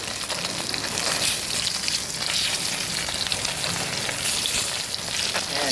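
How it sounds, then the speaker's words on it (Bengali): Heavy rain pours outside a kitchen where fish is frying, a dense, steady hiss that fills the whole stretch at constant loudness without any voices. "বাইরে প্রচণ্ড বৃষ্টি হচ্ছে"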